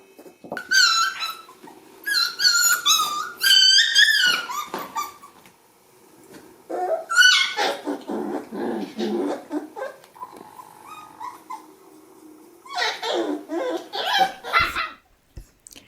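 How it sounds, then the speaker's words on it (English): Atlas shepherd dogs at a sanctuary in Mogador, several dogs barking in loud irregular bursts with yelps and whines between them, close by, with quieter gaps in the middle. "they grew into absolutely splendid dogs, the pure native shepherds of the Atlas"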